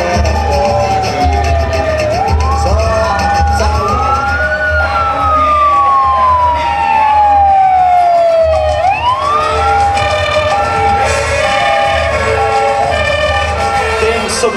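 Sirens of rescue vehicles in a civic parade wail in rising and falling sweeps, loud and close, over a steady low engine rumble throughout.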